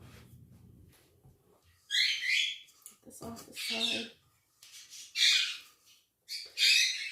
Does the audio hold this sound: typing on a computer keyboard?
no